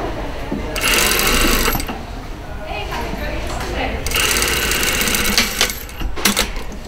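Sewing machine stitching a gathered short puff sleeve onto a sleeve band, running in loud close bursts that stop and restart, with brief pauses between runs.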